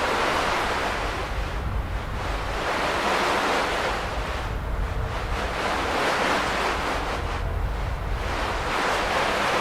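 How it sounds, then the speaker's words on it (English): Wind-like noise texture from the NOISES creative texture instrument plugin with the fuzzy control added, a steady full-band rushing wash that swells and ebbs slowly like surf or gusts, continuous and with no voices. "jitters this around, which makes it incredibly easy to make very realistic, like wind type sounds"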